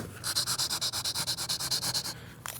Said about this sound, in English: I'm going to use the smallest one to run the sandpaper down into that groove